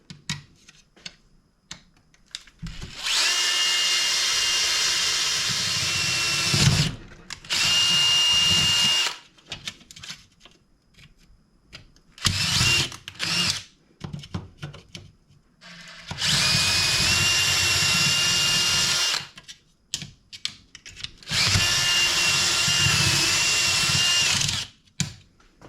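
Power drill boring through metal to set a pop rivet, running in four loud sustained bursts of a few seconds each with short pauses between, the whine steady and close.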